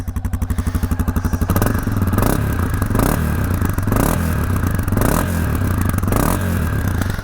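A Honda CRF300F trail motorcycle engine runs close by with a rapid, lumpy idle, then settles into a steady putter with repeated clattering thumps.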